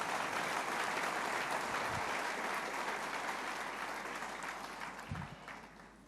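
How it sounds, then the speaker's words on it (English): Sustained audience applause at a business and entrepreneurship talk event, dense clapping from a crowd that holds steady and then gradually fades toward the end. "Can we give him a round of applause"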